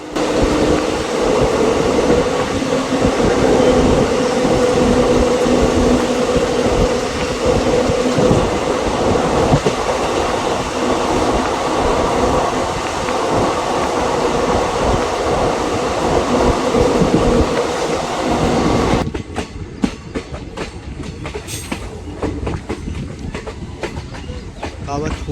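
Lucknow Intercity SF Express passenger train running at speed, a loud continuous rumble with rhythmic wheel clatter that drops off sharply near the end, leaving a quieter rattling interior.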